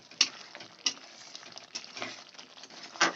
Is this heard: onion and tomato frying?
yes